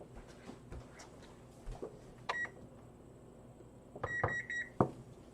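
A timer is set with a few short electronic beeps: one brief beep, then a quick cluster of beeps a couple of seconds later, over quiet indoor room noise with faint clicks and handling sounds.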